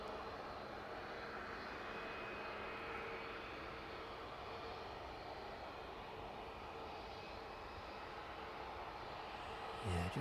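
A Ryanair airliner on approach to East Midlands Airport gives off a steady, distant engine roar that holds at a fairly faint level throughout, with no talk over it.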